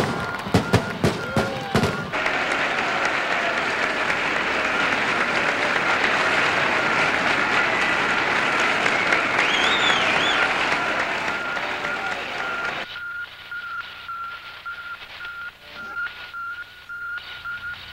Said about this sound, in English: Joyful crowds assembled in Moscow's Red Square.